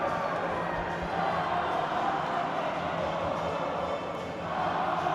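A crowd at a boys' high school ice hockey game roars after a goal. The cheering is a broad sustained wash of noise with a commentator talking over it.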